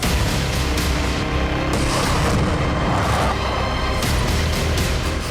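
Russian weapons firing and explosions on a battlefield, a dense, loud, continuous roar of booms and blasts with rumbling low end and no pauses.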